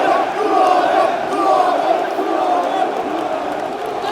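A football stadium crowd roars and cheers after a Lincoln goal, a loud dense wall of voices sustained throughout.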